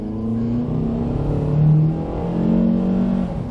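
A Honda car with a delayed-shifting transmission, thought to stem from a faulty shift solenoid, revs its engine steadily up and down as it strains through first gear, droning close and unbroken with no voices.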